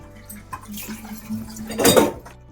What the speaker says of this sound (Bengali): সিঙ্কে কিছু বাসন জমেছিল সেগুলো ধুয়ে